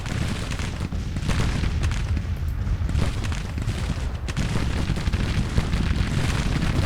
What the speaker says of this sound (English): These artillery pieces are able to hit the enemy flank